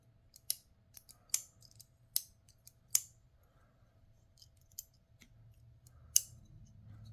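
A Jin Rhyno button lock knife gives sharp, crisp clicks as its blade flicks open and snaps closed, a handful of distinct snaps spaced about a second apart against a quiet background.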